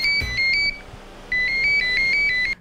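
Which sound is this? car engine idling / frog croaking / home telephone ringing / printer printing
home telephone ringing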